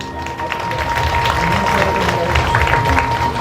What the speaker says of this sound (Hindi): आप एक बार अपने लिए जोरदार तालियां बजाइए